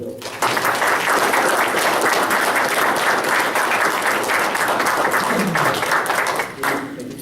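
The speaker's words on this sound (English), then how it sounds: "So a round of applause for Joe." A room at a Floresville city council meeting breaks into sustained applause, dense steady clapping from a crowd that holds for several seconds before tapering off, with a few voices mixed in.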